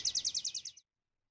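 A baby bird chirps in a rapid run of about seven bright, high tweets lasting under a second, then silence, clean and close with no talk.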